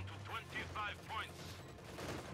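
Several short bursts of machine gun fire sound quietly in a Company of Heroes 2 battle, evenly spaced in quick succession, with a voice talking underneath.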